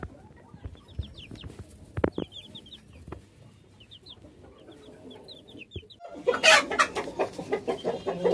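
Five-month-old Cochin chickens on a poultry farm, with close, repeated clucks and brief calls scattered throughout, and a louder burst of rustling and squawking near the end.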